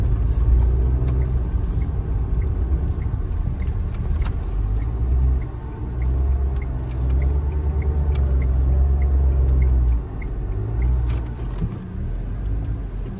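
Cars stuck bumper to bumper in a heavy traffic jam near a crowded Goa beach and market, a steady low engine rumble and idling hum that continues throughout with small swells, no voices.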